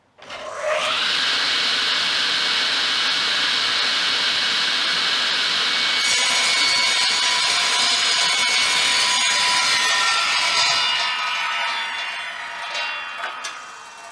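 A Hafco Woodmaster SB 12 table saw spins up to a loud steady whine, then the blade bites into a test-cut workpiece with a harsher ringing tone before winding down near the end, heard alone at close range.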